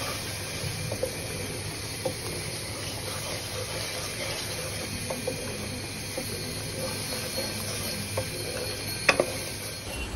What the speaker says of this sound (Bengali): তো এখানে আমি মশলাটা তেলে দিয়ে দিয়েছিলাম